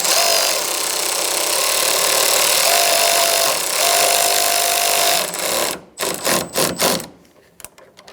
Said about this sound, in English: use your 8mm socket and tighten down the other bolt